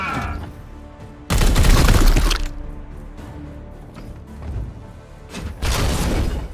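Gunfire in the video game Warhammer 40k: Chaos Gate - Daemonhunters comes as two loud, booming bursts of rapid shots, each lasting about a second, separated by quieter background.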